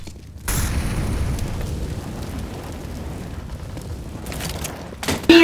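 An incendiary grenade bursts in Counter-Strike: Global Offensive, a sudden loud whoomp that settles into a steady roaring, crackling fire for several seconds before a sharp new noise at the end.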